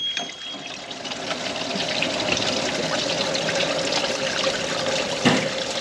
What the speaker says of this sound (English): Yeah, we'll let that drain